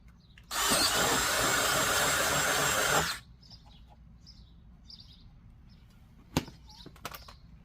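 A power drill whirs loudly in one steady burst of about two and a half seconds, then stops, leaving near silence with a few small clicks.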